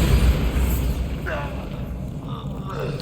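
A Bombarda spell explosion in Hogwarts Legacy erupts as a loud, booming blast with heavy low rumble, fading into debris-like crackle and a brief voice exclamation near the middle.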